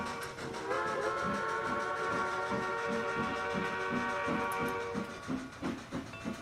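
Steam locomotive hauling a C&O coal run in the Trainz game, a steady rhythmic chuff with hiss and a sustained whistle, loud and alone without voices.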